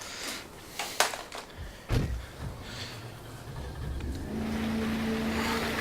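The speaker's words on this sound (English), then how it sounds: "Pull the car out of the mud pond." Car engine revving while the car is pulled out of a mud pond with a snatch strap, a low steady drone building after a few scattered thumps and knocks, fairly quiet and somewhat distant.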